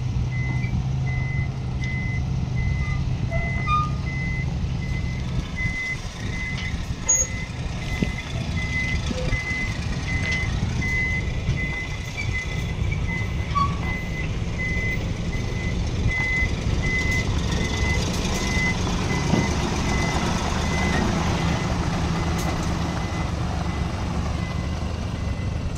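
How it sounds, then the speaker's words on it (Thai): A truck's reversing alarm beeps steadily in a repeating pattern over a continuous low engine rumble at a sand-dredging site, with a crane truck close behind, the beeps clear and unbroken throughout. "คันนู้นก็ถอยไปแล้วรถเคนก็อยู่ด้านหลัง"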